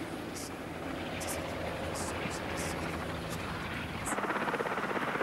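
Steady rotor drone of a helicopter, a constant broad whir with faint pulsing, somewhat distant, with no voices over it.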